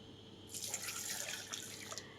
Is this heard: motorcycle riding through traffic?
no